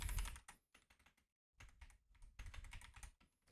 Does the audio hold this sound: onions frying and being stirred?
no